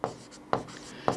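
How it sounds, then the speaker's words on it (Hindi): Pen scratching on paper while working a maths problem, three short quick strokes spaced about half a second apart, close and fairly quiet, with no talk. "तो अब हम यहाँ पर लिखेंगे"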